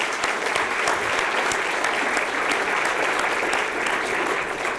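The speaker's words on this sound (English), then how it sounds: "please join me one more time in giving them a round of applause for their contributions" An audience at a community poverty forum gives steady, dense applause for its panelists, sustained and fairly loud throughout with no pauses.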